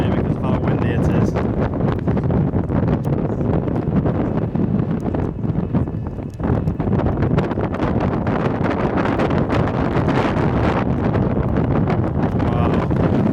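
Strong wind on an island fort buffets the microphone, a loud, continuous roaring rumble that never lets up for the whole stretch, with gusts swelling and easing.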